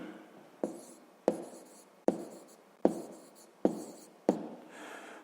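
A pen writes on paper during a sixth-grade maths exercise, six distinct close strokes tapping and scratching at a steady rhythm, quiet and alone.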